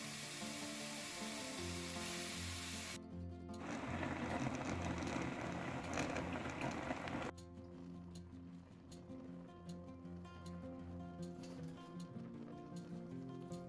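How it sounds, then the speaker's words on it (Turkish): Loud, steady sizzling of beef hitting a preheated cast-iron pot with no added oil, with clinks and shifts in the hiss as the pieces are moved around. "Öncesinden ısıttığımız demir döküm tencereme etimi alıyorum."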